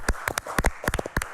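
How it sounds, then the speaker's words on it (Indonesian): An audience applauds Amang Herald Siagian: a handful of sharp, close claps in an uneven patter, with nothing else heard. "Tepuk tangan sekali lagi untuk"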